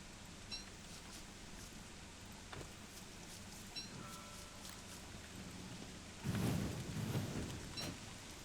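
Steady rain falls in the video game Don't Starve, a soft constant patter broken by a louder rolling rumble of thunder near the end, with faint scattered game chimes and no talk.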